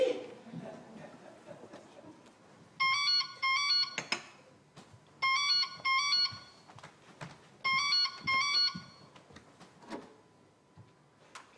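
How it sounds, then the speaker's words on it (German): A telephone rings indoors in three repeated electronic trilling bursts, fairly close, amid scattered thumps and handling noises, with brief talk before and after. "Gary, Telefon!"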